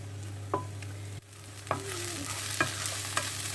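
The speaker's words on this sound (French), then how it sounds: "J'y ajoute les oignons et l'ail. Je vais faire revenir un petit peu, quelques minutes." Onions and garlic fry in a little oil in a pan over a steady background hum, with soft sizzling and a few close clicks and scrapes of a utensil stirring them.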